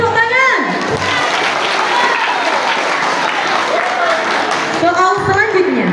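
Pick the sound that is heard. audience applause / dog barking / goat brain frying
audience applause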